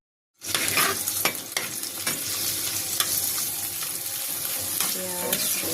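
Jute leaves fry with onion, garlic and green chili in a little oil, giving a steady, close sizzle with occasional stirring scrapes throughout.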